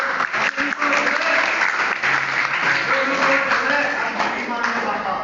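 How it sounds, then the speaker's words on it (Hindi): Sustained applause from a group, steady clapping filling the whole stretch with a few voices mixed in. "ताली बजाओ।"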